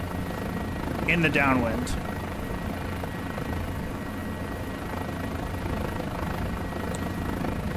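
A Guimbal G2 helicopter's engine and rotor drone steadily in Microsoft Flight Simulator 2020, a constant mid-level whir with a low throb while a person speaks briefly over it.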